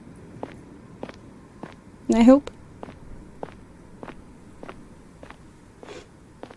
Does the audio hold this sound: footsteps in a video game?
yes